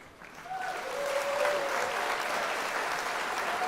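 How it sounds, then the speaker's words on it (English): An audience at a transport awards ceremony breaks into applause, the clapping swelling quickly into a steady, full round that carries on to the end. "Dermot, round of applause for Dermot, please."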